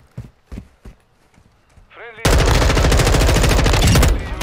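M4 rifle in Call of Duty firing a long, loud, sustained automatic burst after a short stretch of quieter game sounds and talk.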